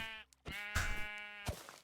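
Sheep in the Minecraft video game bleat in short, nasal, wavering calls, two or three in quick succession, close and clear with brief gaps between.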